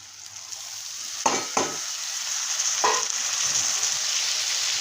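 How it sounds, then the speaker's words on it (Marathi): Soaked kurdai crumbs fry and get stirred in a pan: a steady, close sizzle runs throughout, broken by two quick spatula scrapes early and another a little later. "आता मी कुरवड्याचा चुरा टाकून घेतो"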